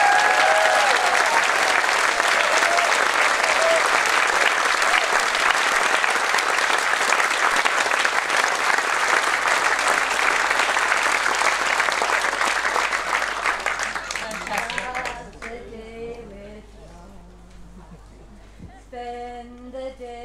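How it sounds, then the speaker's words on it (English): An audience at a Sunday morning church gathering claps for a speaker with loud, sustained applause for about fifteen seconds that then fades out, and soft music and voices follow. "one more rousing applause for Satish coming this morning"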